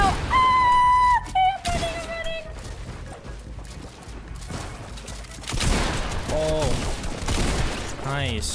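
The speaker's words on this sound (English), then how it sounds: "I'm getting shot at by someone else now." Gunfire in the video game Fortnite, scattered shots and bursts mixed with other game sounds and tonal effects, with a person talking over the action.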